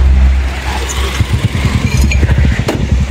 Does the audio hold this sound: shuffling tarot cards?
no